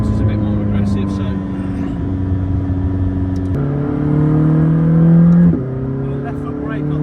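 A McLaren 600LT in sport mode accelerates hard, its engine note climbing steadily and snapping through two quick gear changes, loud and close, with a voice talking faintly beneath.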